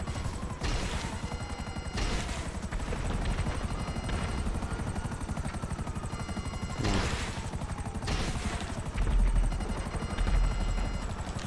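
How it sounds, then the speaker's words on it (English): A damaged helicopter in Grand Theft Auto V keeps up a loud, steady rotor chop throughout, joined by whooshing bursts and crashing impacts, with no voices. "This chopper is kaput."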